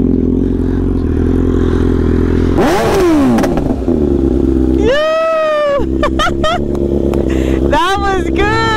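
A BMW S1000RR with an SC Project slip-on exhaust revs loudly, its pitch sweeping up and down through sharp blips, with crackling pops and excited voices talking over it close by.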